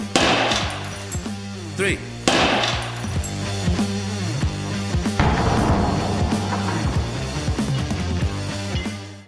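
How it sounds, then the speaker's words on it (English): A pickaxe hammers against thick armored bulletproof glass, landing a few sharp, loud cracking blows spaced several seconds apart over a steady tonal background. "whether you think the pickaxe will be able to break through the real armor glass"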